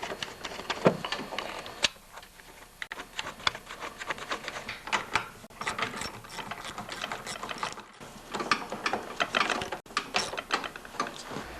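A ratchet clicks rapidly while tightening two 10mm nuts on the carburetor cover of a Briggs & Stratton snowblower engine, in close, fast bursts of metallic ticking with brief pauses between runs.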